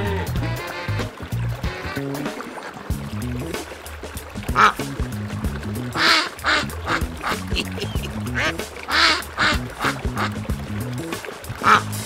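A duck quacks in short, repeated bursts amid splashing water and a cluttered mix of other animal noise, the calls loud and close in a jungle farm diorama scene.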